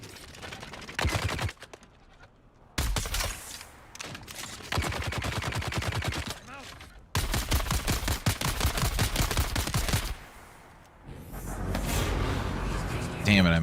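Bursts of rapid automatic gunfire from the video game Dune: Awakening, loud and stop-start over several seconds, with a player talking over them.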